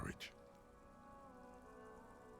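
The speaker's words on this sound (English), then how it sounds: "Droplets of rain fall on the white on blue police livery of" Rain pattering on a white and blue police car in Disco Elysium, a faint, steady patter under a sustained tonal drone, after a brief sharper sound at the start.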